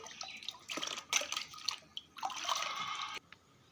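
Amra (hog plum) fruits being washed in water, giving faint splashing, dripping and squishing sounds in short bursts, close by and quiet.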